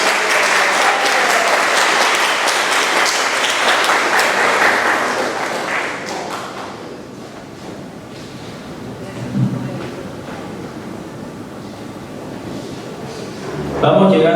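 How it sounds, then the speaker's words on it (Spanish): Warm applause from an audience at a lecture ceremony, loud and sustained at first, then thinning and fading into scattered claps and room murmur. "Un caluroso aplauso a quien ha sido el coordinador del curso de tesis, el señor Jaime Agustín Sánchez Ortega."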